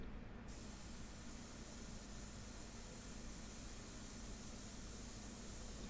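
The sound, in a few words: airbrush spraying sepia paint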